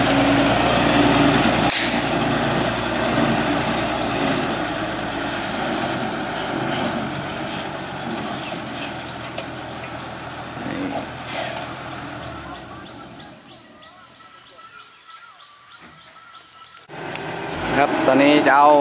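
A six-wheel truck carrying a Komatsu excavator idles with a steady engine rumble and hiss, loud and close, fading quieter toward the end before a brief louder burst; no clear talk.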